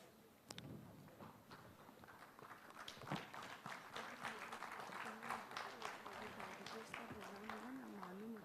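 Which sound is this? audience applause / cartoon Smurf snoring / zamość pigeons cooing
audience applause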